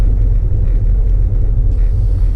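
A manual-transmission car's engine rumbles low and loud from inside the cabin as it pulls out of a parking lot, a steady heavy drone with slight fluctuations and no talk.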